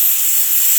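A pressure cooker whistle vents steam in a steady, loud, continuous hiss that fills the short stretch without a break, while biriyani gravy cooks in a home kitchen.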